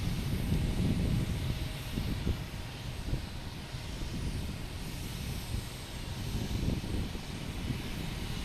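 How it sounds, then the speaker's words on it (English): A JetBlue Airbus A220 arrives at Logan Airport in early morning, a faint, distant engine rumble with slow swells and a low steady roar, with no voices. "we have a JetBlue coming in from Detroit. A220."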